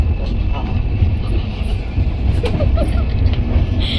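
Loud, continuous rumble and rattle of a moving train heard from inside a carriage, a steady low roar with a few faint voices.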